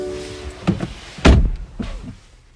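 The door of a 2020 BMW M235i xDrive Gran Coupe swings shut with one solid, close thunk, preceded by light rustling and movement.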